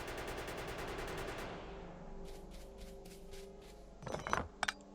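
Gun turrets firing in Factorio, a top-down factory-building video game: a steady rattling stream of rapid shots fades out, followed by scattered sharper pops and a few quick bursts near the end.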